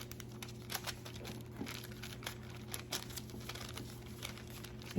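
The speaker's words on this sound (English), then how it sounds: "it tears where the water is." Wet tissue paper is torn along an edge dampened with a brush for decoupage, giving soft, faint crinkling and tearing rustles in short bursts over a quiet background.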